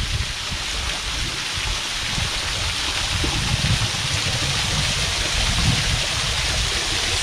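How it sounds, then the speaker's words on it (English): Mountain spring water rushes steadily in a broad, even hiss, like a small stream flowing close by, continuous and fairly loud with no voices. "I think that's the beginning of a spring."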